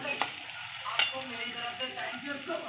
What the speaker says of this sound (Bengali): এটা এখন ভালো করে সুন্দর করে কষাবো।